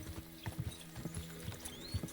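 Horse hooves gallop in a repeated clip-clop rhythm during a race in the medieval game Kingdom Come: Deliverance II, the beats fairly close and steady over a low rumbling background.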